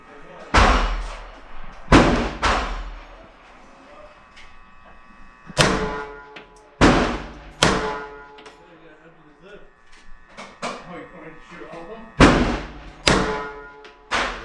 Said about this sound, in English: Second shot, and then we'll do the transition to the one-handed shooting